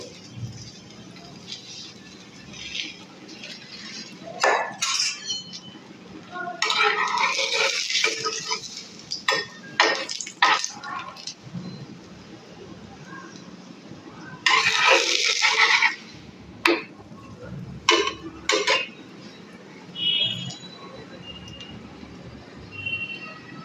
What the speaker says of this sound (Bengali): তাওয়ার মধ্যে আমি একটু তেল দিয়ে দিয়েছি আর পরোটাটা আমি দিয়ে দেবো